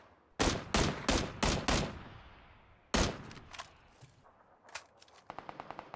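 PUBG gunfire: a rapid string of loud close automatic shots, a pause, then another burst followed by scattered fainter single shots and a quick light rattle of fire at the end, with no voices.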